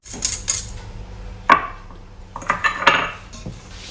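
A hand whisk beats beetroot chiffon cake batter of sugar, boiled beetroot water, coconut oil and salt in a bowl, giving irregular close clinks and scrapes against the bowl's sides, with quieter stirring in between.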